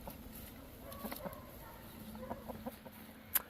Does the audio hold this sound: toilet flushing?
no